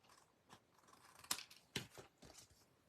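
Scissors cutting a paper card for an ice cream card, a few quiet close crisp snips and rustles spaced irregularly, faint overall with no talk.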